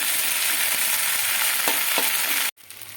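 Onion with garlic and ginger paste sizzles loudly in a frying pan as it is stirred, with a few scraping strokes before the sound cuts off abruptly near the end.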